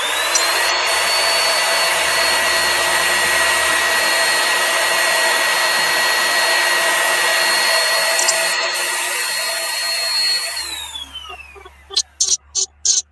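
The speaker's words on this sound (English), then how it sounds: "so I'm gonna sand it down a little bit" A power sander works steadily on a small wooden item being made in a home shop, a loud continuous whir that runs for about ten seconds before winding down, followed by a few short bursts.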